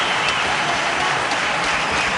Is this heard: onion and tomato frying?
no